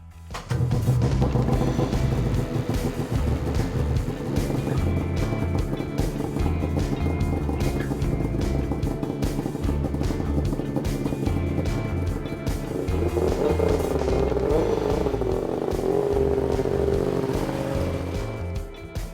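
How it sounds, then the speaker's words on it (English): A big-bore two-stroke snowmobile engine with an MBRP sport exhaust drones loud and steady at high revs, its raspy tone rising and falling slightly throughout. "the sound of a 2-stroke big bore with a quality exhaust system from MBRP is like music to our ears"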